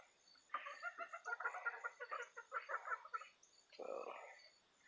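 Quiet, close chicken clucking in a flock of backyard hens: a quick run of short, rhythmic clucks, a brief pause, then one longer drawn-out call.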